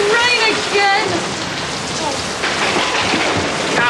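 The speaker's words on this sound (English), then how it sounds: "Oh, look! It's going to rain again!" Steady rain pours down in a TV sitcom scene, a dense continuous hiss of falling water with a possible distant rumble, while voices murmur faintly beneath it.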